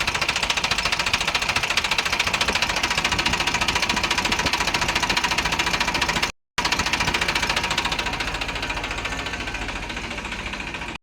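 Eicher 380 tractor diesel engine running steadily, a loud rapid knocking chug close by that holds even, cuts out briefly, then resumes slightly quieter.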